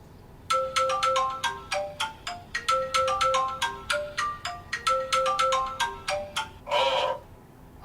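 A telephone ringtone chirps in a rapid repeating melodic pattern, loud and close, bursts of tones cycling steadily with no voices over it.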